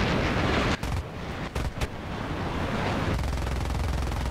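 Tank cannon fire in the War Thunder video game: several sharp broadband blasts land close together near the middle over a constant loud rumbling battle background, with no voices.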